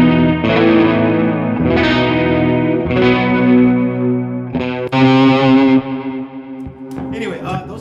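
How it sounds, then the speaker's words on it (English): Clean electric guitar chords through a Mesa Fillmore 50 amp with a shimmering chorus effect, sustained and ringing, played steadily and fairly loud. "So on a clean sound, the chorus was happening."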